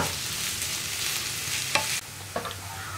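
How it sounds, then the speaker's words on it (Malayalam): Onions being stirred and sautéed in a pan for a Kerala-style beef roast, a steady close sizzle of frying with a few sharp scrapes and knocks of the stirring spoon against the pan, no talking. "ഇതൊന്ന് ഇളക്കി നന്നായിട്ട് വഴറ്റിയെടുക്കണം"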